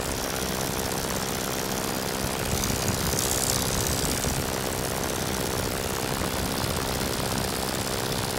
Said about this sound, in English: It's a wonderful, wonderful aeroplane, this Tiger Moth.